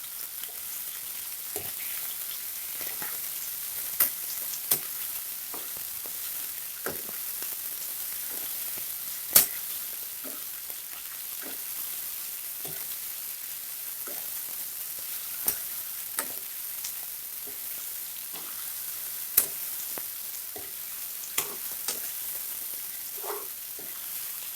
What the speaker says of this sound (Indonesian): Kita masukkan tahu yang sudah digoreng.